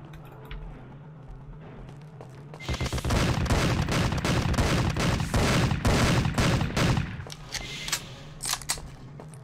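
Rapid pistol shots in the steampunk first-person shooter The Principality of Mars (2008), a sustained volley of sharp cracks after a quieter start, loud and close, tapering into a few scattered shots.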